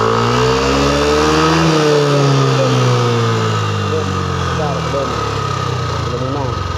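A Yamaha Aerox scooter with a fault that cuts its electrics is revved hard. The engine drones loudly and continuously, rising and falling in pitch as the throttle opens and eases over several seconds.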